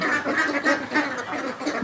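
Ducks quacking close by at a small duck farm, a rapid run of repeated nasal quacks overlapping one another throughout, loud and without speech.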